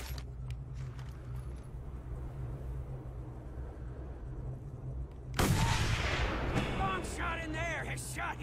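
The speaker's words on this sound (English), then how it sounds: "Uh-oh, that's a sniper." A sniper fires in the Mad Max video game: one sudden, loud, sharp report comes after a stretch of low engine rumble, then rings out with crackling echo.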